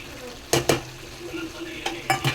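Masala being stirred into pepper chicken frying in a pan, a few scraping strokes and utensil clinks over a low, steady sizzle.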